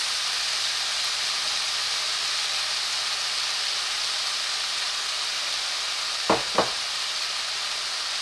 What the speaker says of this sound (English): Now on a little bit lower heat, I'm going to start sauteing my other vegetables